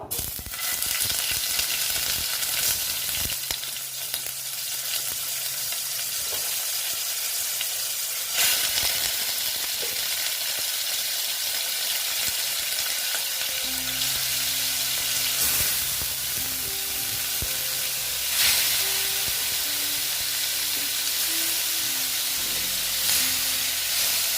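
Pieces of katla fish fry in hot oil, giving a steady close sizzle and crackling hiss that runs unbroken throughout with no talking, and only faint tonal sounds in the background.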